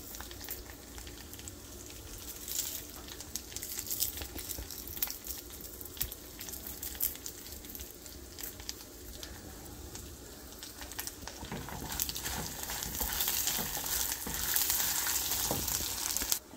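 Curry leaves, both dried and fresh, frying in hot oil for South Indian lemon rice, giving a steady close crackling sizzle with scattered pops that grows louder and busier toward the end, with no talking.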